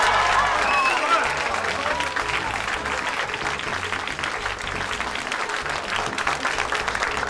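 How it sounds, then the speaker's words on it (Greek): A television studio audience at the Greek variety show Ευτυχισμένοι Μαζί gives a long, steady wash of applause that starts loud and settles into an even roar of many hands, with voices faintly underneath. "Ένα χειροκρότημα και για τα παιδιά"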